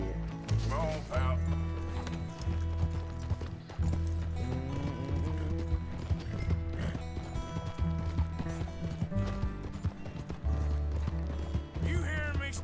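Horse hooves clip-clop in the video game Red Dead Redemption 2, a steady rhythmic trot under music and game sounds, with a horse whinnying briefly.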